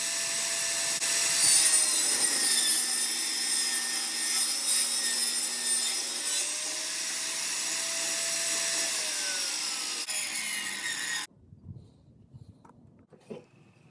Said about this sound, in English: So I cut the supports on the table saw.